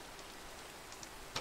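Brief, faint Minecraft rain gives a steady, even hiss with a couple of light ticks near the end and no voices.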